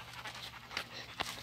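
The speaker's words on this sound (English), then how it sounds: "here's her pet dog" A pet dog pants softly and steadily nearby, with a couple of brief louder breaths standing out against a faint low hum, and no one talking.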